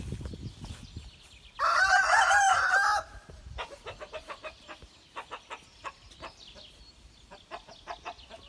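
A rooster crows loudly once on a farm, a long harsh call, followed by a run of quick clucking and chirping bird calls from nearby fowl.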